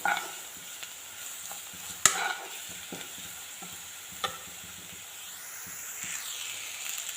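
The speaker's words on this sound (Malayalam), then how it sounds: "പിന്നെ എടുത്തു വെച്ചിരിക്കുന്ന പൊടികൾ ചേർത്ത് പച്ചമണം മാറുന്നത് വരെയും വഴറ്റിയെടുക്കാം" Spice powders sauté in oil with curry leaves in a pan for an ivy gourd stir-fry, giving a quiet, steady sizzle broken by occasional scrapes and a couple of sharp spoon knocks; no voices are heard.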